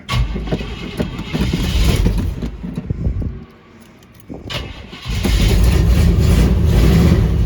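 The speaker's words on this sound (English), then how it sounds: "That carburetor is bad. Very bad." Rough, loud idle from a 1979 Chevrolet Suburban with a bad carburetor, its engine rumbling and stumbling, briefly dropping away almost to nothing before surging back up to a steady, heavy run.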